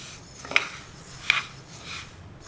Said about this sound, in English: You should mix this mixture continuously till this URAD dal turns to brown.